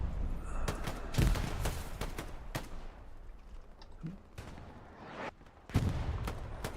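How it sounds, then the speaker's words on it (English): Artillery and machine gun fire in the Hell Let Loose video game, Omaha Beach map: scattered sharp gunshots and bursts with heavier thumping impacts, some near and some distant, over a steady battlefield din. "There comes the Arty. Already stopping the reinforcements. You got the MG lighting it up."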